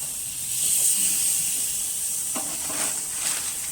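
New York steaks sizzle on a hot grill over an open fire, a steady, close, fairly loud hiss that holds throughout with slight swells and no talking.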